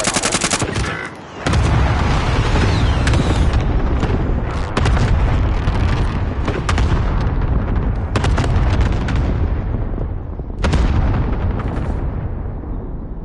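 Airstrike explosions in Call of Duty Warzone, a dense loud barrage of blasts and gunfire rolling almost continuously, with repeated sharp onsets cutting through the roar.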